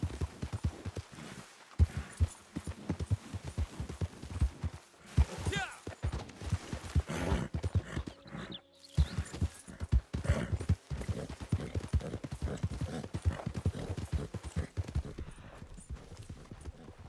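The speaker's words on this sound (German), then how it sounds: "Ich hoffe mal, dass das sein Pferd ist hier." Horse hooves clip-clop at a steady walking rhythm in the video game Red Dead Redemption 2, moderately close and continuous, layered with ambient game sound and some speech.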